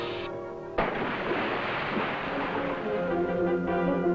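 A US Navy destroyer's 5-inch 38 guns fire, a heavy sudden boom followed by a long rumbling roar over old newsreel soundtrack music.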